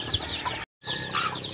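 Hens clucking in a busy, overlapping chorus, briefly cut to silence in the middle before the clucking resumes, fairly close.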